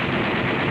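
A loud, close burst of rapid special-effects gunfire from a war movie set, the shots blurring into one continuous crackling roar.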